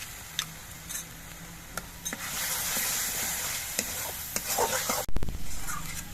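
Green chili, ginger and garlic paste sizzles and fries in a pan for a fish dish, with steady crackling, occasional scraping stirs and clicks of a spoon against the pan, close and fairly loud.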